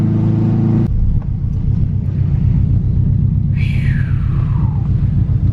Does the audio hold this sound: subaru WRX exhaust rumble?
yes